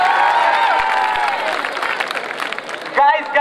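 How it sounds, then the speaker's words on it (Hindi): Audience at a college cultural festival in Navi Mumbai applauding, a sustained dense clapping crowd with some cheering, blended with voices and a brief burst of louder crowd noise near the end. "थोड़ी और तालियां हो जाए।"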